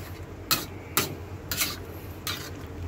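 Pork menudo being stirred in a pan over low heat, with four distinct scraping clinks of the utensil against the pan spaced about half a second apart over a quiet background.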